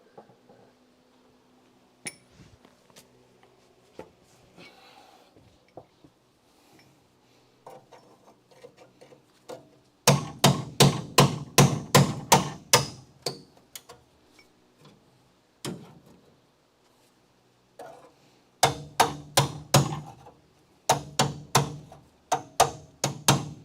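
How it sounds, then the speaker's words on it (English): Spot welds popping as car frame panels are pried apart on a Crew Cab Charger build; quiet scattered ticks give way to loud bursts of rapid sharp metallic snaps and cracks, close by, in two clusters. "hear that pop? That was the spot welds popping."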